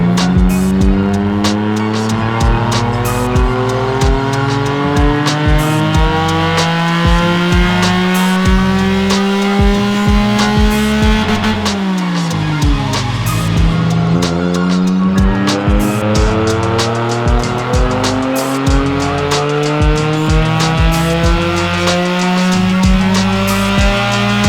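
A car engine on a home-built chassis dyno in a shop revs hard through repeated pulls, loud and steady, with the pitch climbing, dropping sharply near the middle, then rising again.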